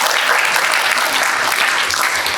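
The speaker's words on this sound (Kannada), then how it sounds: "ಧ್ಯಾನಕ್ಕೆ ಒಂದು ಜೋರಾದ ಚಪ್ಪಾಳೆ" Dense, loud applause from a large crowd at the closing ceremony of a 48-day Mandala Dhyana meditation program in Channapatna, a continuous wash of many hands clapping throughout.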